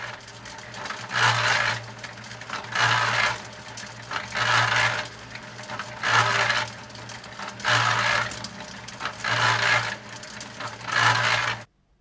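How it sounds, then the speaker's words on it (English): An old cement mixer with a worn bearing churns in a steady rhythmic cycle, a gritty grinding whoosh swelling and fading about every one and a half seconds over a constant low hum, close and fairly loud. "As you heard there, that's the sound of a bearing going."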